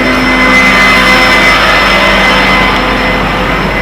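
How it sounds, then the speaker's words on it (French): Truck-mounted compressor on a fuel tanker, run off the PTO during a delivery at Laveyron, giving a loud, steady mechanical drone with a sustained hum and no break, close by with no talk over it. "Et t'as le compresseur."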